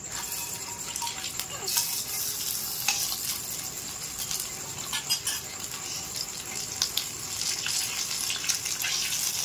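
Curry leaves and mustard seeds fry in a pan over low heat, giving a continuous soft sizzle with scattered crackles and pops, fairly close and without speech.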